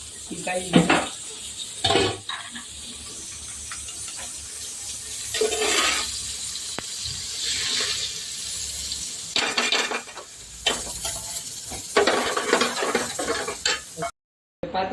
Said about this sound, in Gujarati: આનો વઘાર કરવાનો છે